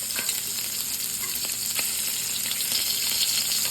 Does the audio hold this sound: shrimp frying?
yes